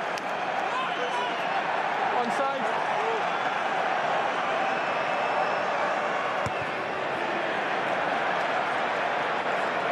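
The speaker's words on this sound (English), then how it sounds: "The roar from the Twickenham crowd" Twickenham stadium crowd at an England vs Wales Six Nations rugby match: a steady, dense roar fills the whole stretch at constant loudness while a commentator speaks briefly over it.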